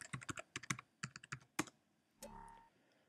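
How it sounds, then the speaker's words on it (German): A password is typed on a Mac computer keyboard, a quick run of crisp key clicks close by, followed by a single short, softer chime-like tone. "Und dann müsst ihr euer Kennwort eingeben."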